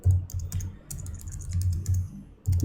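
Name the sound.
typing code on a computer keyboard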